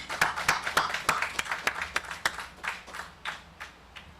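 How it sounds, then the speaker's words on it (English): Applause from a small audience at a Wells Fargo-sponsored North Carolina Principal of the Year awards ceremony, with distinct hand claps in a quick, uneven rhythm that thins out toward the end. "Please join me for a round of applause for these outstanding administrators"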